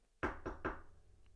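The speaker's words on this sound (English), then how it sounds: "knock it 3 times and" Three quick, evenly spaced knocks rap on a device, each a sharp, resonant thud in close succession, standing alone against a quiet background.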